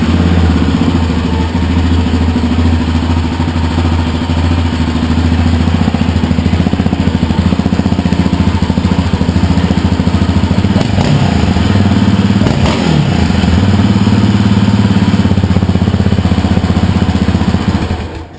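A fuel-injected Yamaha Warrior 350 ATV engine idles loud and close, with a steady throbbing low rumble throughout and a couple of brief blips in the middle before it cuts off at the end.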